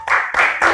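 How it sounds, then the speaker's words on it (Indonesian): A classroom breaks into short bursts of applause for group A after their presentation on potential energy, three loud clapping swells in quick succession. "Berikan tepuk tangan untuk kelompok A"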